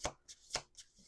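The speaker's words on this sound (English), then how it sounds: "Two more shuffles." Playing cards are shuffled by hand in several quick, crisp riffles, each a short papery burst spaced about a quarter second apart, close and fairly quiet.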